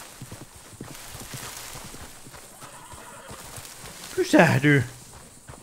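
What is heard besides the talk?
horse in video game Red Dead Redemption 2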